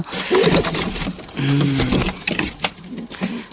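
Pigeons, including a black one, coo in a loft, with soft low throaty coos and rustling close by; a voice murmurs faintly in the background.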